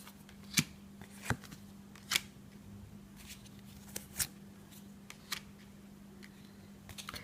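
Tarot cards shuffled and laid out during a reading, producing soft, sparse papery snaps and flicks spaced a second or so apart over a quiet room hum.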